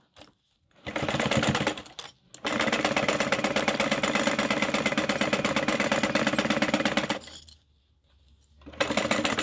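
A sewing machine bastes a crossbody bag in two close, steady runs of rapid needle chatter. The first is short and the second lasts about five seconds, with brief quiet gaps before, between and after.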